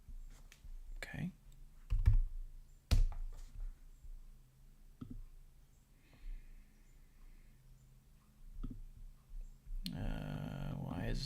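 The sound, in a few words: typing on a computer keyboard in Tableau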